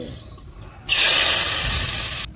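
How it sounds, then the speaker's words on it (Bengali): Water hits hot oil left in a pan after frying small fish, bursting into a loud, steady hiss that lasts over a second and then cuts off sharply, following a quiet stretch. "ওই তেলের মধ্যে জল দিয়ে দেবো"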